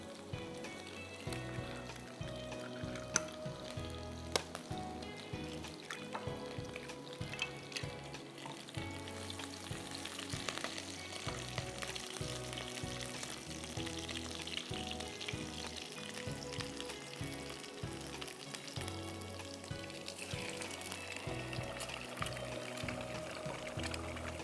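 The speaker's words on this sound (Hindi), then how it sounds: "जैसे ही गार्लिक हल्का सा ब्राउन होने लगेगा, हम इसमें डालेंगे अंडे।" Eggs sizzling in a pan of lightly browned garlic, a continuous crackling fry that stays steady and moderately loud throughout, with no talk.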